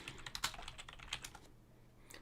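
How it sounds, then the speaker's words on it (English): Rapid, loud clacking of computer keyboard keys during a live game stream, close and dense at first, then thinning out to a few scattered taps. "Sorry about the loud typing, guys."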